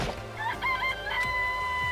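A chicken in the video game Danganronpa clucks and squawks close up in a quick series of calls, with sharp rising crow-like cries and no talking over it.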